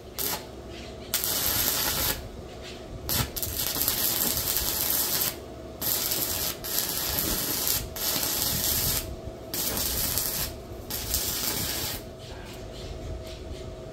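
An IGBT inverter stick welder runs a 1/8-inch 6010 electrode at about 120 amps. Harsh, crackling arc noise comes in several bursts of one to three seconds, separated by short silent breaks.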